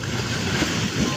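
Rushing river water during severe riverbank erosion at a village on a char in Bangladesh, a steady broadband roar of churning flow with wind buffeting the microphone throughout, loud and continuous with no speech.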